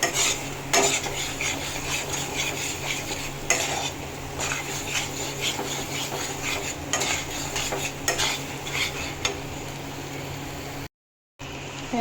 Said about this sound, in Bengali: মাংস দিয়ে এখন তোমার কষাতে হবে ভালো করে